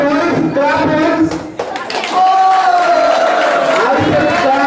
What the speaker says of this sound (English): All the boys, clap hands.